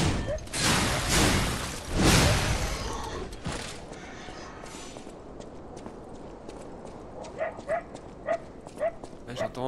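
A dog barks in the Lies of P video game, a few sharp yelps near the start amid game ambience, with someone talking over them before the scene quiets to footsteps and small clicks.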